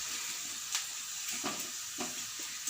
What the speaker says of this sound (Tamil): சிம்லேயே வச்சுக்கிட்டு இதை நீங்கள் நல்லா ப்ரௌனாக வர்ற வரைக்கும் நம்ம வறுத்து எடுத்துடலாம்.